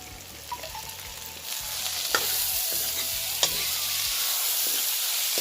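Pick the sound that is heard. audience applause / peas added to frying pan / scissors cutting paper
peas added to frying pan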